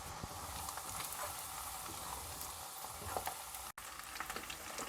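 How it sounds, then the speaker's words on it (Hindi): Potatoes and cauliflower frying in oil over medium heat for a restaurant-style mixed vegetable dish, a steady, even sizzle that keeps going without a break, with a brief dropout near the end and no voices. "मीडियम आंच पर सब्जियों को फ्राई करना है, 2 मिनट आलूओं को फ्राई करेंगे।"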